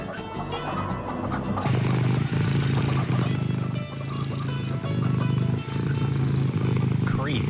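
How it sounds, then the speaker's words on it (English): Cat purring as heard on a live radio breakfast show in a studio: a deep, continuous rumbling purr, steady and close, running throughout with a brief hiss of noise at the start. "Oh, that's a cat. It's a purring cat."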